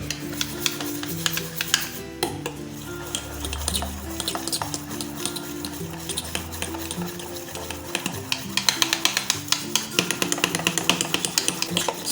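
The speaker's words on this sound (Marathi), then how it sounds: "एक पाच मिनिट आपल्याला हे मिश्रण न थांबता छान असं हलवून घ्यायचं आहे" Dhokla batter being stirred nonstop in a bowl, a steady run of scraping, tapping strokes against the sides, close up with no talking.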